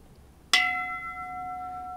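An antique Edo-period Japanese bell is struck once, giving a sharp metallic onset that settles into a long, clear sustained ring with steady overtones, close and alone in a quiet room.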